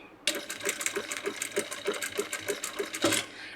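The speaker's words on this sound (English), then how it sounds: "We do like a backtrack, so we lock the stitches here." A sewing machine runs a short burst of stitching, a rapid, even mechanical patter up close that starts suddenly and stops after about three seconds, with no talking.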